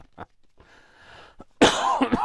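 A short cough with a throat-clearing edge breaks a quiet indoor moment during a card-making session, loud and close, following a few faint small sounds.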